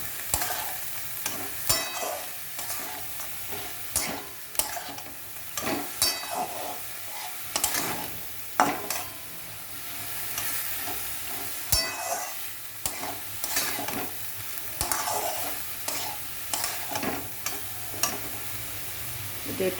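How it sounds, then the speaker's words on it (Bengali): Soaked chickpeas frying in a pan, a continuous close sizzle broken by repeated scraping stirs of a spatula at an irregular rhythm. "এবার ছোলাটা দিয়ে দিচ্ছি।"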